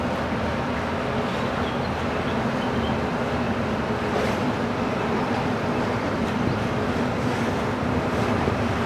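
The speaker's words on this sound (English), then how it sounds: "It's a little windy, a little cool." Constant rushing wind buffeting through an open window on a moving boat in Antarctica's Lemaire Channel, with a steady low engine-like rumble beneath.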